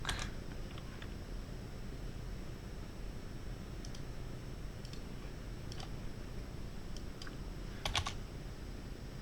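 Light, irregular typing on a computer keyboard while coding web page classes, with quiet scattered key clicks over a steady hiss of background noise and no talk.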